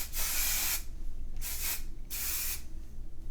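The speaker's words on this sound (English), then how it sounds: "I love a dry texture spray." A can of dry texture hair spray releases three hissing bursts, the first long and the next two shorter, close up and clear while hair is styled for volume.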